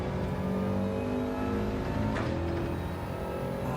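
A car engine in Gran Turismo 7 revs hard under acceleration, a loud continuous droning whine with layered harmonics rising steadily and a brief shift-like flutter midway, no voices.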